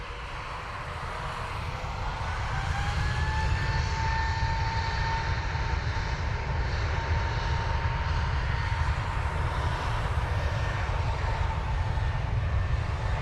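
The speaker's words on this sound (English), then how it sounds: "A321 Neo. Three-year-old aircraft." A three-year-old Airbus A321neo at Dublin Airport roars steadily and loudly, its engine noise building over the first seconds and then holding a broad, sustained rumble with a faint rising whine throughout.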